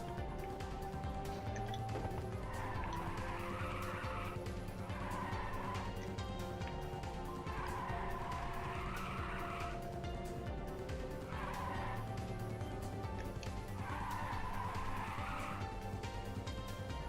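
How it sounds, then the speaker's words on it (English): Tires skid and squeal through long drifts in Ridge Racer 2, a 2006 PlayStation Portable racing game, with recurring screeching bursts over a steady engine drone and in-game music, no talk. "Some really big drifts on here."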